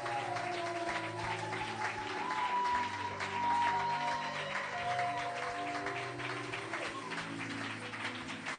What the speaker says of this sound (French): Clap according to your personality.